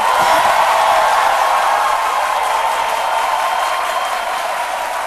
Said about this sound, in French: un public de charme que je vous demande d'applaudir